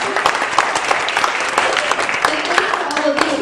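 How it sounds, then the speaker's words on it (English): Audience at a literary reading night applauds the show organizers, a dense, steady burst of many hands clapping close by, with some voices mixed into the crowd. "So if I could get a round of applause for them"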